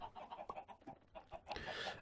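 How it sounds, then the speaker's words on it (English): Chickens in the video game Minecraft cluck in a quick, faint series of short, clipped calls, with a brief louder burst of noise toward the end. "we have some chickens up here, just spurting out eggs all over the place"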